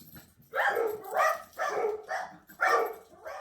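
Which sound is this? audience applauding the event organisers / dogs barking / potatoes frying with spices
dogs barking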